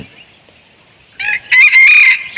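A decoy fighting cock crows close by, a loud rising cock-a-doodle-doo call with a short clucking lead-in over quiet rural background.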